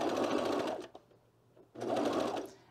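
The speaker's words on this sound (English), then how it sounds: "I'm just gonna lift up my presser foot a little bit and kind of ease it in every 1/2 inch or so" Two close bursts of machine stitching on a cardigan shoulder seam are separated by a brief pause while the fabric is eased in.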